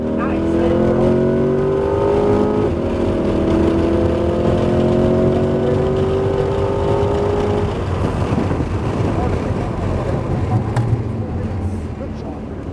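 A Corvette C8 Z51 accelerating on the Homestead Miami Speedway track, its mid-engine note rising steadily in a loud sustained drone and then giving way to broad road and wind roar, with an instructor talking over it.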